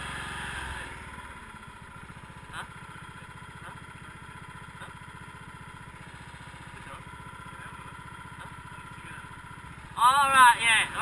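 A racing lawnmower engine runs steadily with a low, even drone throughout, then swells into louder revving bursts near the end.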